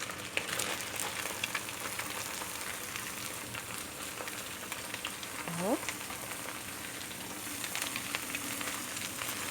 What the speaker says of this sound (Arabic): هنزل بكميه البصل اللي انا قطعتها